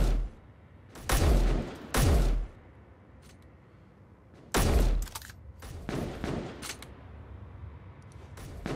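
Gunfire in Space Engineers aimed at a turret: a few loud, sharp bursts spaced apart, with fainter scattered shots between them, over a quiet low background hum.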